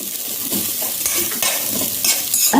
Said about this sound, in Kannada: ಒಂದು ಅರ್ಧ ನೀರುಳ್ಳಿ ಹಾಕಿಕೊಳ್ಳಿ ಹಾಕಿ ಒಳ್ಳೆ ಮಿಕ್ಸ್ ಮಾಡಿಕೊಳ್ಬೇಕು